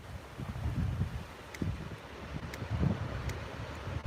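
Steady wind buffeting the microphone at Pamukkale, Turkey, a low rumbling roar with gusty swells throughout and no voices.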